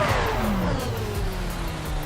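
A car engine in the war game Foxhole revs and then winds down, its pitch sliding steadily lower over about two seconds, loud and close with no talking.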